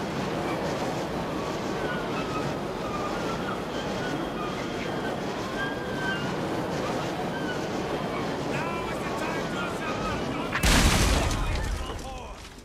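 A Hell Cannonier in a strategy video game fires a shot at an army of enemy units. A sudden loud booming blast comes late, over a constant dense bed of game battle noise.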